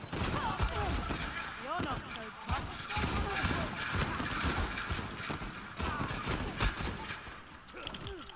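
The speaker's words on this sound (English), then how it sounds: "Hey, stop shooting at me!" Gunfire from the Uncharted 4 video game, including M14 rifle shots, in dense, rapid bursts through a long firefight, with people talking over the shooting.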